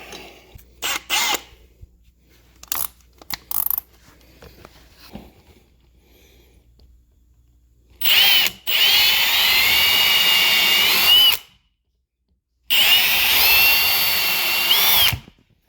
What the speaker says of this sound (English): drill it and screw it.